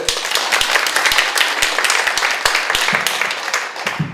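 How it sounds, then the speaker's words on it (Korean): A church congregation claps at a Korean ordination service, a dense burst of hand claps with sharp individual slaps standing out, steady for a few seconds before thinning near the end. "박수 한번 주세요."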